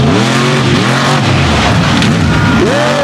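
A mega truck races around a muddy track in West Virginia, its engine loud and continuous with rising and falling revs throughout, with no talk over it.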